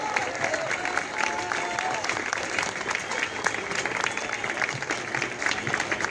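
Audience applause welcoming Javier Milei to an open economics class, a dense, steady wash of many hands clapping that stays loud throughout, with crowd noise mixed in.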